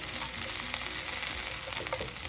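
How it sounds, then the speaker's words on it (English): Vegetables sizzle in a hot pan, a steady crackling hiss close up with occasional sharper pops, no voices. "I love that sound. Yeah. Sizzling sound."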